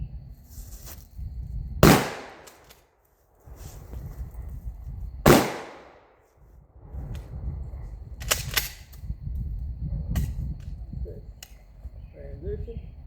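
Pistol shots at a shooting drill with a barrier: five loud, sharp cracks come singly and in a quick pair, spaced by pauses with quiet background noise.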